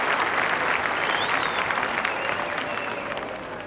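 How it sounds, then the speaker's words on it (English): Steady applause from a crowd greets a performance at the 1987 First Fleet bicentennial re-enactment, the Queen and Prince Philip among those clapping; dense, continuous clapping fills the whole stretch and tapers slightly at the end. "Queen and Prince Philip applauding their performance"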